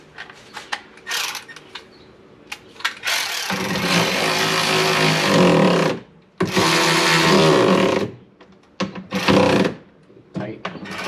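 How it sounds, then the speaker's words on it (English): A Milwaukee electric ratchet drives Torx fasteners while a stereo kit goes into a Can-Am Maverick X3, whirring loudly in two long bursts with shorter spurts and clicks around them, close by. "Milwaukee ratchet."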